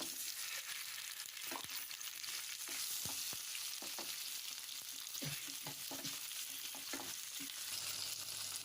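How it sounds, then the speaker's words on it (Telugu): Chopped tomatoes go into a pan of fried green chillies for coriander chutney: a soft, steady sizzle hisses beneath scattered clinks and scrapes of stirring, quiet and close, with no voices. "ఇప్పుడు పచ్చిమిర్చి వేగిన తర్వాత మనం ఇందులో 3 టమాటోస్ తీసుకుని ఇలా ముక్కలుగా కట్ చేసుకున్నానండి, అది యాడ్ చేస్తున్నాను"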